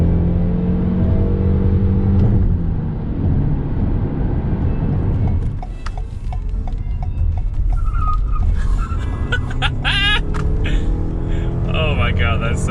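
A 2021 Toyota RAV4 Prime 302 hp plug-in hybrid SUV accelerates on the freeway in sport mode, giving a loud steady drone of engine and road noise throughout, with higher whirring tones rising near the end and people talking over it.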